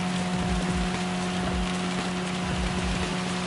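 Heavy rain in the Gran Turismo Sport racing game at the Red Bull Ring, a steady dense hiss of downpour over a low engine hum, continuous and fairly quiet throughout with no talking.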